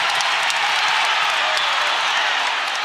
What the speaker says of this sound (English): And the crowd comes to their feet